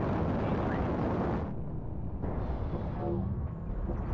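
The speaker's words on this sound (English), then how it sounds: "Artillery strike online. Hit the left side." A heavy artillery strike in a video game lands as one sustained, loud, rumbling explosion that fills the whole clip, with no voices over it.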